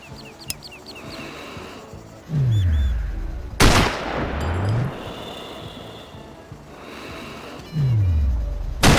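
In the video game Sniper Ghost Warrior, sharp sniper rifle shots crack loudly, each followed by a whooshing sweep, amid birdsong and ambient game sounds, with no talk.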